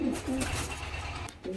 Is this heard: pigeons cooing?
yes